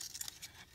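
Scissors cut through decorative ribbon for a Christmas embellishment, making a few quick, close, crisp snips in under a second.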